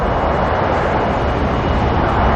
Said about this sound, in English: I love this, we can even hear the 787 now.